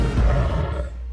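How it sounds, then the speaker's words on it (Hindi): A single deep, loud lion roar sound effect from an Indian action movie swells up close and then trails off, heard alone without talk. "दहाड़ने वाला शेर।"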